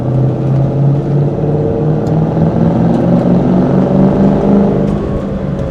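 A torch red 2003 Ford Mustang Mach 1 with a 4.6 V8 and five-speed manual rumbles along from inside the cabin, a steady loud engine drone with a wavering low tone as it cruises in hot Texas weather.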